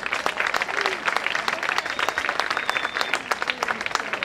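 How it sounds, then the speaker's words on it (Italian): Strong, sustained applause from an audience fills the opening ceremony in Venosa, Italy, dense rapid clapping with no pauses, close and loud throughout. "un forte applauso ancora a tutti voi"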